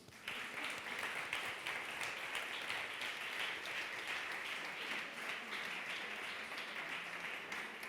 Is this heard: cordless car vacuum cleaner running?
no